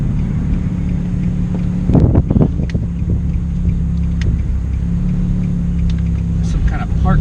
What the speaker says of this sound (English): These motors sound so good